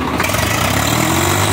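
A Swaraj tractor engine, 855 FE or 744 XT, runs loud and close, a steady throbbing diesel drone with no voices over it.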